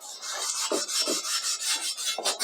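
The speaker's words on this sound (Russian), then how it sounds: "Трем хорошо, жесткой стороной." The hard side of a sponge scrubs a cast-iron kazan in close, rapid rasping strokes, each rough swipe loud and gritty, repeating in an uneven rhythm with no voices.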